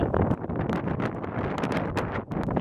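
Strong wind buffets the microphone at a putt-putt golf course in loud, rough gusts, a continuous blustery roar with brief dips.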